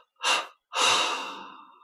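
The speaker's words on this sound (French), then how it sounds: "On prend une inspiration profonde. Trois expires." Two close, loud breaths from a guided meditation: a short inhale, a pause, then a long deep exhalation that slowly fades, with no talking.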